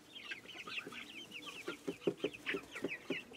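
Cuckoo Marans chickens cluck in a short, busy run of repeated calls, close by, with other fowl chattering in the background of a backyard grow-out pen.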